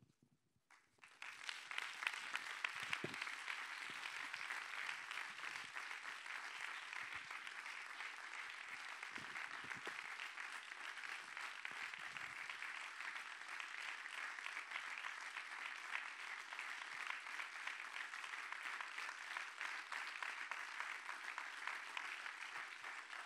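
Sustained, dense applause from a large audience fills a film festival closing ceremony in Italy, rising quickly after a brief pause and holding steady and loud throughout.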